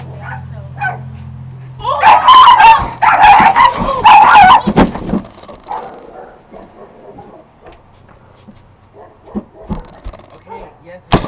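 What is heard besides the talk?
dog barking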